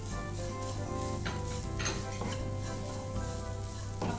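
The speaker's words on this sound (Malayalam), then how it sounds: "മുളക് പൊടി ചേർത്ത് കൊടുത്തു. അപ്പം അതൊന്ന് വഴറ്റിയെടുക്കാം." Chili powder stirred and sautéed in a pan while cooking Kerala-style egg perattu, with a steady sizzle and a utensil scraping and stirring against the pan, close and continuous with no speech.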